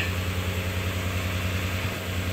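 A 2005-2021 Nissan engine idles steadily after new exhaust manifolds, catalysts and O2 sensors were fitted, a close, even low hum with no talking over it.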